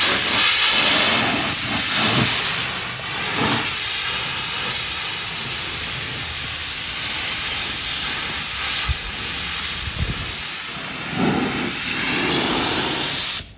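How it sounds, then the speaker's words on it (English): Spray paint can hissing as paint is sprayed around the edge of a custom vintage neon-look gas station sign outdoors in the wind, a loud continuous hiss with brief dips and short pauses. "What I'm going to do first is just spray around the edge."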